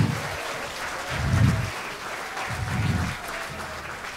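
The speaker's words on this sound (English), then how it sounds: "Can we get another round of applause for that group?" An audience applauds a grade 9 band at a school spring concert, soft diffuse clapping with a few low thumps, steady and moderately distant.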